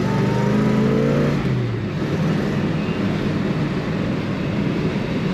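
A 1966 Chevrolet Chevelle convertible accelerates hard with the throttle pressed down, its engine note loud and steady, climbing and then holding as the car pulls away, with no talking over it.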